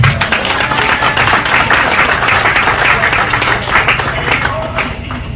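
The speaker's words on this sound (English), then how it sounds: "the region deserves a round of applause" Applause from an audience at a health insurance scheme event, a steady dense patter of clapping that holds at an even level throughout, with some background voices mixed in.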